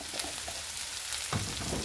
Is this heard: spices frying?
yes